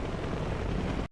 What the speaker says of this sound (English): Oh man, I think it's those helicopters.